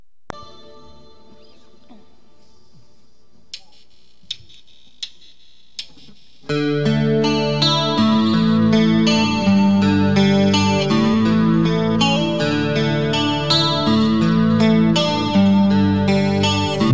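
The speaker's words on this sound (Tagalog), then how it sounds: "Yung tunog ng gitara niya na Les Paul." A Les Paul electric guitar plays an effects-laden intro, starting with sparse tones and a few plucks before a full, loud chorused and distorted passage rings out steadily for the rest.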